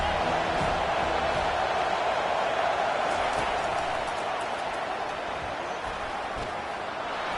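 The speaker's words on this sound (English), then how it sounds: "this crowd is turning it up a notch" Dense, steady roar of a football stadium crowd at a Utes game, swelling loudly on second down and holding as a continuous wash of cheering throughout.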